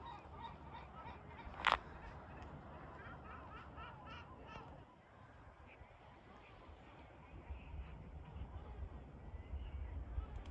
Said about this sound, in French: Il y a des mouettes partout ici.